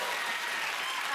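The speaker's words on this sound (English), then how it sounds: "Yes, you can applaud for that." A crowd applauds in a brief, continuous wash of clapping, fairly loud and even from start to end.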